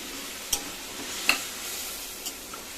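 Fried potatoes tipped into sizzling spice paste with a little water, a soft steady sizzle broken by a few sharp clinks and scrapes of a spoon against the pan, close by.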